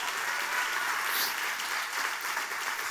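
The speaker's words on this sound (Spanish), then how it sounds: "Dale un aplauso a Dios si lo recibe." Congregation applause at a church service, a dense steady clatter of many hands clapping throughout, fairly close and even in loudness, with faint voices mixed in.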